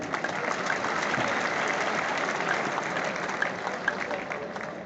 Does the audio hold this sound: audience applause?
yes